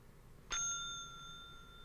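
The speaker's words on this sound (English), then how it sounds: "Why do you keep ringing that bell?" A single bicycle bell ding rings out clearly, its bright tone lingering and fading over a second against a quiet background.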